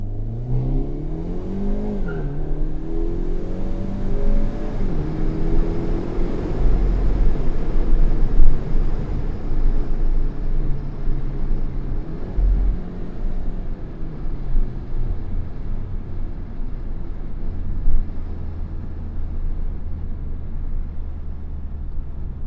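A 2025 Hyundai Elantra N with dual-clutch transmission roars and revs hard as it accelerates, loud and close, with the exhaust note rising and shifting throughout, no talking.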